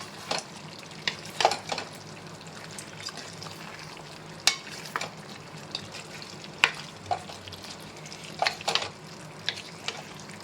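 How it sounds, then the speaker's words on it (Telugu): Chopped tomatoes frying in a pan for a dhaba-style chicken curry, a steady low sizzle broken by scattered sharp scrapes and clacks of stirring, moderately close with no talk. "ఒక 3 బిగ్ సైజ్ టమాటోస్ యాడ్ చేసుకొని ఇలా చిన్నగా చాప్ చేసుకొని బాగా మిక్స్ చేసుకోండి."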